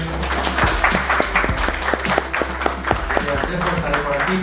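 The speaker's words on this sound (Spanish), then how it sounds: "Un fuerte aplauso para ellos." Applause from an audience at a bonsai round-table gathering, steady clapping of a modest crowd with distinct individual claps near the microphone and low voices murmuring underneath.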